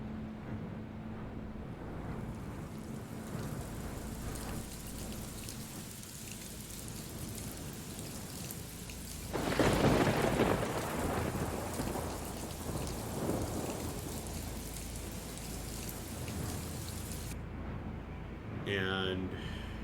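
Steady rain hisses with deep rolling thunder as a background sound effect during a tabletop fantasy role-playing session, swelling into a louder rumble midway. A voice talks over the storm in places.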